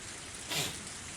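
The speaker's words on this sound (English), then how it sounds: "The sound of falling raindrops was fierce, as always." Heavy rain falls in a scene from the video game Higurashi When They Cry, a soft steady hiss with a brief swell in the middle, quiet and continuous.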